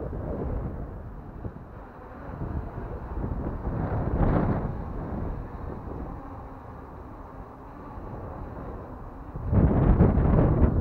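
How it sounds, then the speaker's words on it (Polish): Strong gusting wind buffeting an outdoor microphone at a quadcopter flying spot, a steady low roar that swells in heavier gusts, loudest toward the end. "Wierzcie mi, wiatr jest dzisiaj niesamowity"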